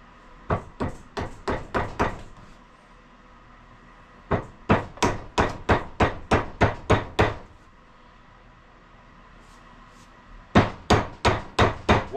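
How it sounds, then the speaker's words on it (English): A heavy hammer drives a wedge into an axe handle in three loud, rapid bursts of sharp, evenly spaced strikes, with short pauses between the volleys. "You got to use the biggest hammer you can find."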